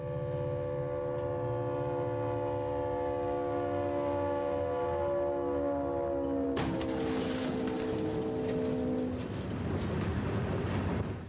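A freight train's horn blares in a long sustained chord as the train approaches, loud and steady for several seconds before a sudden crash of noise cuts in and the horn fades under it.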